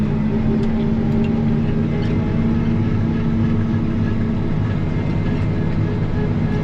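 A Crary Revolution ditcher runs behind a 40-horsepower tractor in a field, making a steady, loud mechanical drone with continuous low engine hum and rattle and no pauses.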